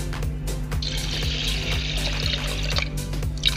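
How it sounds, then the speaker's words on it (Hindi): Water pours steadily into a pressure cooker holding washed dal and rice, a continuous close splashing fill that lasts several seconds with faint background hum. "पानी डाल देते हैं।"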